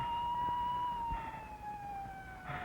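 An ambulance siren wails at a distance with a steady, slowly falling tone, faint and continuous beneath light background noise.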